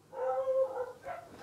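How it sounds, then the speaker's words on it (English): Dogs indoors make a brief, faint burst of whining yips and barks, quiet and close. "Sorry about the dogs"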